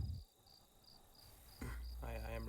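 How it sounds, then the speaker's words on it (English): Steady cricket chirping as a sound effect, a thin high pulsing trill that runs alone at low level, then sits under louder mixed background noise in the second half. "I think the crickets speak for themselves."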